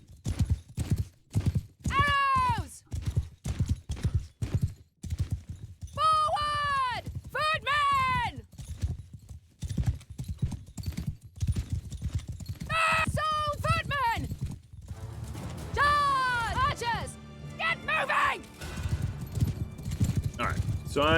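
Horses galloping and whinnying in the medieval battle game Mount and Blade Bannerlord, with repeated hoof clip-clops and several loud neighs over battle noise, under someone talking throughout.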